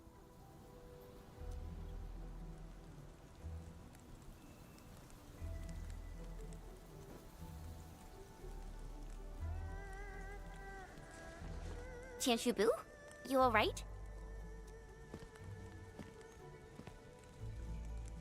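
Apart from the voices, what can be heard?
rain splattering in the video game Endfield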